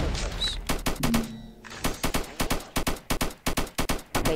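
Rapid bursts of video game gunfire from an SAKTK AI51-style rifle, a long string of loud, sharp repeated shots in quick clusters with brief gaps between volleys.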